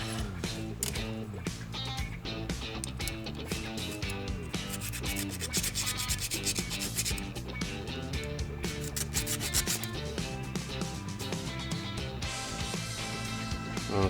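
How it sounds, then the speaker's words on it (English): Burrs are filed off the inside of a chainsaw chain with rapid, continuous rasping and rubbing strokes, a dense scraping texture close up that runs the whole time. "I've got all the burrs off the inside of the chain"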